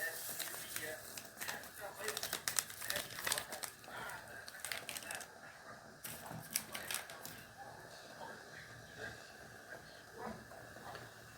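A vanilla sachet is torn open and its packet crinkled in bursts of sharp rustling, quiet and close, during rice pudding preparation in a home kitchen.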